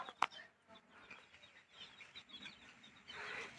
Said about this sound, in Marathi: कोंबडी बघा आता घरी येतील.